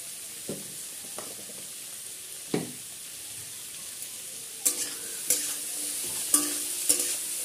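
Pumpkin pieces fry in oil with salt and turmeric, a soft steady sizzle broken by occasional sharp scrapes and stirring clatters that grow busier toward the end.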